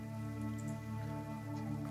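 Steady rain ambience falls evenly throughout, a dense continuous patter layered over a low constant hum, with no voices.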